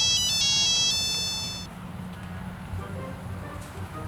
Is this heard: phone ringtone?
yes